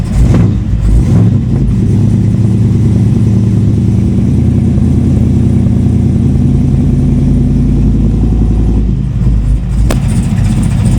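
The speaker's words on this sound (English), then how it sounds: "Just sitting there idle. Not a very dramatic cold start" A 2006 Chevrolet Monte Carlo with a swapped LS 5.3 V8 and a front- to rear-drive conversion idles steadily after a cold start, a loud, continuous low rumble that stays even throughout, with no talk.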